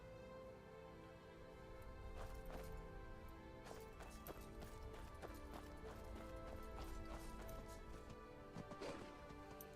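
Horses with a carriage clip-clop in the Skyrim game world, a faint, steady patter of hooves running under constant low ambient rumble.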